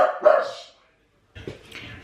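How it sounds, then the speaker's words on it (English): Dog in a house letting out two loud vocal bursts close by, the first long and wailing and the second rougher, separated by a brief silence. "Dexy's howling because Charlie's physio has just arrived to the house"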